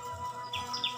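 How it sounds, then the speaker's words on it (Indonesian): Birds chirp briefly in dense forest behind a simple village house, a couple of short high tweets over a soft steady background hum. "Ada suara burung."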